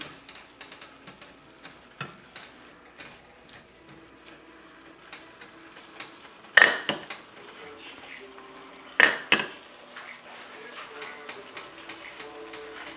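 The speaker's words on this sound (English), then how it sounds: "Now we go ahead and drop the broth." Shrimp cooking with broth and sauce poured into a pan, shrimp and broccolini seasoned with Tajin; a soft steady sizzle runs beneath scattered utensil clinks and two sharp louder clatters near the middle, with no talking.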